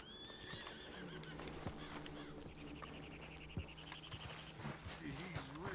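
A horse in Red Dead Redemption 2 whinnies several times, with high rising neighs and snorts over clip-clopping hooves, against steady game ambience.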